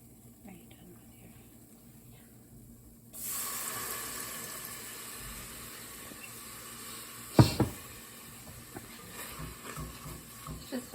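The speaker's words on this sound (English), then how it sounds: "Just a little bit of water in here to kind of get it going" Tap water runs into a bowl of flour dough being mixed for a large batch, a soft steady flow starting after a quiet moment, with a sharp knock partway through and faint background sounds.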